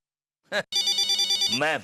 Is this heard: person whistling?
no